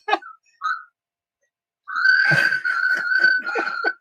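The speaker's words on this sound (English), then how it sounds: "she's whistling" A person whistles a few short notes, pauses, then whistles a longer wavering tune in bursts, close and fairly loud.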